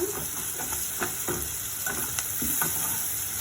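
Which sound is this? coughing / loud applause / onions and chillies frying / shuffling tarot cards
onions and chillies frying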